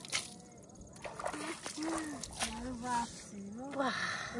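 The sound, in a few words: pouring water to wash off soil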